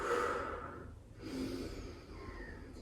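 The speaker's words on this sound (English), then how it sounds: "Breathing in through the nose and extending the exhales." Slow yoga breathing: a long audible inhale through the nose followed by long, soft exhales, close and quiet over faint room noise.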